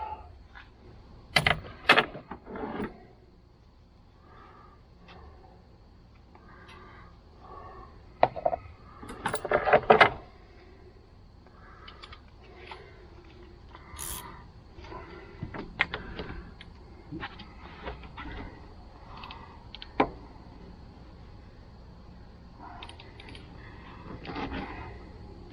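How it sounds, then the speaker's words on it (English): Socket wrench being forced onto a car battery terminal nut: scattered metallic clicks, scrapes and creaks in short bursts, close and fairly quiet, with pauses between efforts. "Let's see if I can force the socket onto it."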